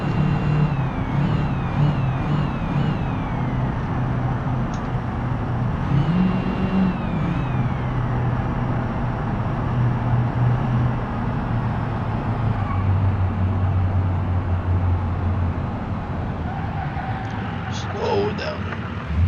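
A truck engine in the BeamNG Drive video game drones and revs at close range, its pitch rising and falling in sweeps, while a person talks over it.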